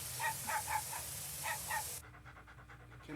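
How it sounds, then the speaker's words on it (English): Dog sounds from an anime scene: several short panting or yipping bursts in quick pairs, moderately quiet over a low background, ending abruptly into a quieter stretch. "Bad dog."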